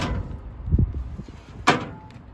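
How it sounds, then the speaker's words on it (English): Travel trailer entry stairs on a 2007 Keystone Hornet 258BH are pulled out, giving a couple of close metallic clunks and a sharp scraping rattle, with no talking. "Now, to go inside your trailer, bring out your stairs."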